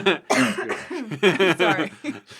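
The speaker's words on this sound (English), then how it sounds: "Every time I laugh, I have to cough" A voice breaks into laughter that turns into a few rough coughs, close and loud.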